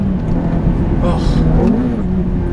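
Ferrari F430 with a manual gearbox revving through a gear change, a close engine note rising and dipping under an adult voice talking over it.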